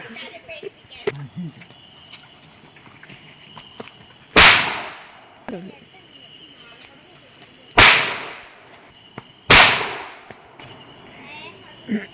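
Three sharp, loud firecracker bangs go off several seconds apart, each with a quick decaying crack, over quiet background with faint voices between.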